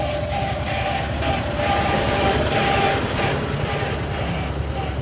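A tractor engine runs steadily outdoors at dusk, a continuous low rumbling drone with a mechanical hum that holds an even level throughout, alone without speech.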